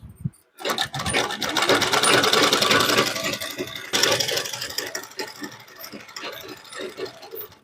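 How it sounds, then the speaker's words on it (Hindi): Electric sewing machine running in steady continuous bursts while stitching the lining onto a blouse's sleeves and back, a dense mechanical whir that pauses briefly near the start, close and fairly loud with no talk. "अभी इसमें हम सभी साइड में सिलाई लगाकर इसको अच्छे से अटैच कर लेते हैं"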